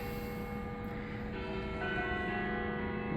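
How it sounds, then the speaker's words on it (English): Church bells ringing down the street from the old shoe factory building, a faint, distant, sustained metallic toll with layered ringing tones, no voices. "And there's plenty of church bells from down the street"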